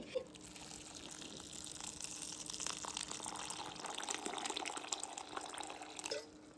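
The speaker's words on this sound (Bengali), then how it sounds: "এই যে জলটা আমি দিলাম 24 ঘন্টা জল দিয়ে এইভাবে রেখে দেবো" Water pouring steadily into a container of corn kernels set to soak for homemade cornflour, a continuous gushing trickle with small splashes, close and fairly quiet, stopping abruptly near the end.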